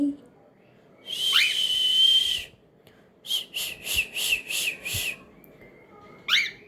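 A cockatiel whistles a melodic tune up close: one long sustained whistle, then a quick run of five or six bright repeated notes, with a short chirp at the end.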